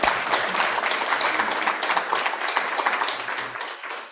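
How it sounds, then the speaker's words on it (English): An audience at an award ceremony for a reproductive justice fellowship applauds steadily for a few seconds, the clapping fairly loud and even throughout. "Robin, okay, yes, clap."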